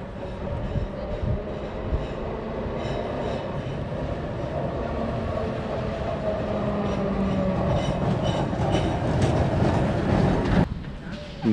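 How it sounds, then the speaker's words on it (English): A tram rolls through the old town streets of Timisoara, its wheels grinding and rumbling steadily louder as it draws near and passes close by, with faint voices in the background. "Here comes the tram."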